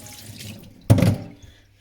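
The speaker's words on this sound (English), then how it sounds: "This we clean up. Flush the stone." Water from a tap gushes over a sharpening stone being flushed clean, a sudden loud splashing rush after a quiet start that fades out within about half a second.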